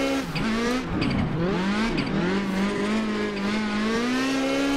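A small drift project car slides sideways toward a wall, its tires emitting a loud, sustained, wavering squeal over the engine for the whole stretch.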